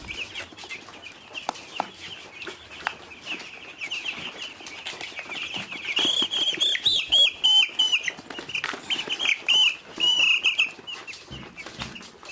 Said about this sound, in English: let's start weighing the birds.